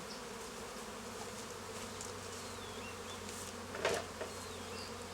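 Honeybees buzz steadily around hives at an apiary while a beekeeper merges colonies, a continuous close drone with a brief louder burst near the end.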